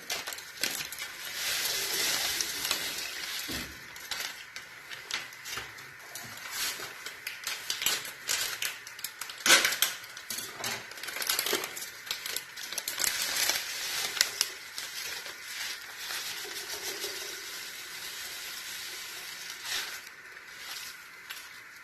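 A spoon stirring packaged kheer mix with cardamom into boiled milk in a pot: continuous soft scraping and clinking with intermittent taps of the spoon against the pot, close and moderately quiet, without speech.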